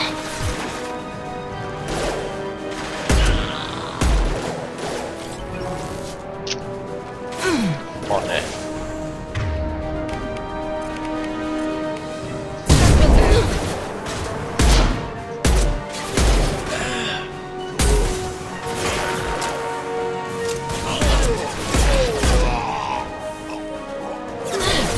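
Repeated bursts of gunfire in the video game Mass Effect 2 crack out in irregular volleys, sharp and loud, over a steady mechanical background while a person talks.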